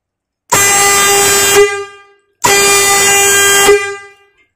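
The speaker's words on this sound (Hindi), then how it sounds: "अपना कोबरा का सिंगल पाइप हॉर्न" Two long, loud blasts of a Kobra single-pipe, single-tone air pressure horn, each a steady harsh tone lasting over a second, separated by a brief silence.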